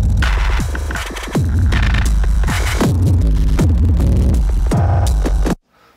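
A loud, gritty drum beat dropped to half time by halving the sample time on a hardware setup, heavy booming hits in a slow, lurching groove with a dense distorted wash, cutting off sharply near the end.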